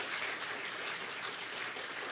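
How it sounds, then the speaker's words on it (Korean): Audience applause at a university ceremony, dense steady clapping from a hall full of people, fairly loud and sustained with no voices over it. "이럴 때 우리가 박수 꼭 해야 되지 않겠습니까?"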